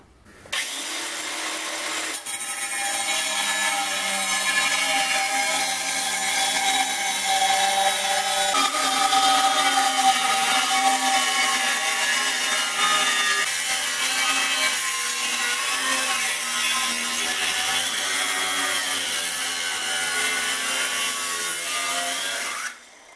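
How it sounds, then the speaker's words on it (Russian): A strip is sawn out of an old metal shovel blade, a continuous loud rasping cut that runs steadily for over twenty seconds with a harsh, even, back-and-forth grind and no talk. "Все, теперь вырезаем эту полосу."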